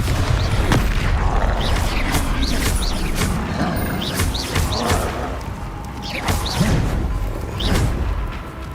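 Bombarda spells in Hogwarts Legacy burst in a rapid series of loud booming blasts and crashing impacts. Whooshes and rattling debris fill the gaps, with no spoken voice over them.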